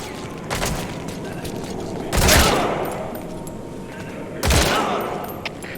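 Heavy gunfire rings out in Metal Gear Solid 5: The Phantom Pain, with a loud boom at about two seconds and another near four and a half seconds over a steady bed of smaller shots and battle noise.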